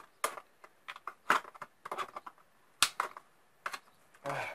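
Large scissors cutting through plastic milk bottles give irregular sharp snips, crackles and crunches, close up and fairly quiet, with a rougher scraping burst at the end.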